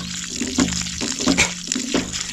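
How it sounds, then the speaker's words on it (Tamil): Water gushes in rhythmic surges from a homemade borewell hand pump that runs without electricity. Splashing bursts arrive about every two-thirds of a second, close and fairly loud, with no talking. "தண்ணி பார்த்தீங்கன்னா சூப்பராக நிறையா வருது"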